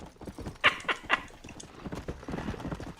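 A horse in the Red Dead Redemption video game gallops with rapid clip-clop hoofbeats, and a few sharp bright accents sound like a neigh, close and fairly loud.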